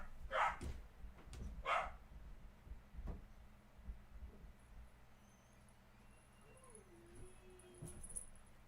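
A pet dog barks twice indoors, sharp and fairly close, then quiets, leaving a faint background hum and a few soft knocks.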